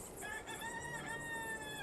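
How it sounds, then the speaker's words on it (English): Roosters crowing in the farming video game Town to City, several long overlapping crows close and clear over a soft ambient background, with no talking. "And the roosters are crowing."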